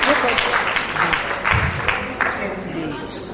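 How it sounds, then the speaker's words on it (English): Applause from a conference audience at a midwifery event in Nigeria, a dense wash of clapping that runs steadily through the stretch with voices mixed in beneath it. "Let's give her a resounding applause"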